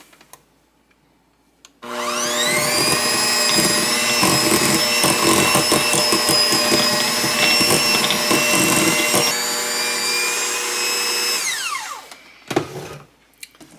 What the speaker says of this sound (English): we're just going to beat the sugar and butter together until it's nice and creamy.